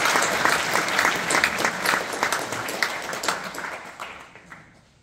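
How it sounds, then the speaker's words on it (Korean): Audience applause at a Korean city mayor's public address, a dense round of clapping that holds steady before fading out near the end. "박수 한번 보내주시기 바랍니다."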